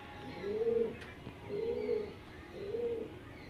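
Three rolling coos from pigeons at a Behala pigeon sale, close and moderately loud, spaced about a second apart over a low hum.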